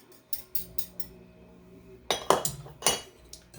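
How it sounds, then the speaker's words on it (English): A whisk clinks and rattles against a bowl while stirring thick molasses into microwave gingerbread batter, with a few light early taps followed by a louder, busier burst of close scraping strokes. "And whisk that."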